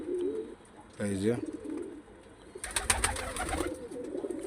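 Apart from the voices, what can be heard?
pigeons cooing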